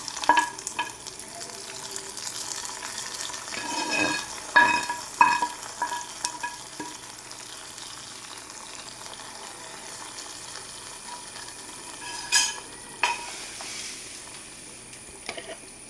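A hot tempering is poured into beetroot pachadi and stirred in. A low, steady sizzle runs throughout, broken by scattered clinks and scrapes of the spoon against the pan.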